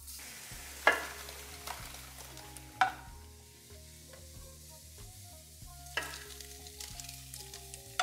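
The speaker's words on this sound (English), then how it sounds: "When you're searing it, you're straight up searing it." Lamb shank searing in a pan at home, a steady sizzle with occasional sharp clatters and stirring knocks, fairly quiet with no talk.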